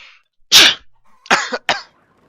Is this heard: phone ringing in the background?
no